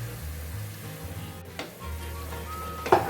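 Onions, tomatoes and green chilies sizzle softly in a pan for baingan bharta, with a low, quiet frying hiss, a couple of brief stirring clatters and a sharper knock near the end.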